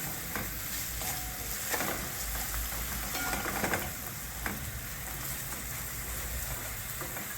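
Paneer bhurji with finely chopped capsicum and salt sautéed in a pan, a continuous close sizzle with occasional scraping stirs of a spatula scattered through.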